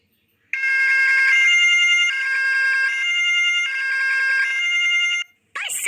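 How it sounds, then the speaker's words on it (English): Ambulance siren sounding in steady two-tone blasts, a high and a lower tone alternating over about five seconds, loud and close, then a short cut-off with a brief burst at the end. "Ambulance."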